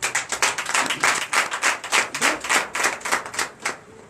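A congregation at a Sunday church service in Benin claps in a quick, fairly regular rhythm of sharp bursts, loud and close, with no talking.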